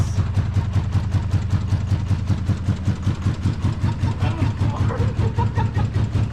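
An old beater car's engine held at full throttle roars loud and steady, with a rapid, even pulsing throb from the shaking motor that runs through the whole stretch and has no talk over it.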